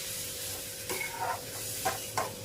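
Tomato puree being stirred into dal in a hot pan, giving a soft steady sizzle with a few brief scraping stirs near the end.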